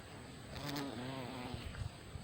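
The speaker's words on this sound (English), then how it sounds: "The bumblebees are always on it." Bumblebees buzz close by, a steady droning hum that swells briefly as one passes near, with no voices.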